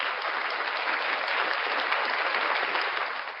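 A studio audience claps steadily for a few seconds, a dense, even wash of applause at moderate volume that begins to fade toward the end.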